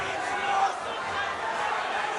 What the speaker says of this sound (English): Listen to the reaction of the British crowd, of the Liverpudlian supporters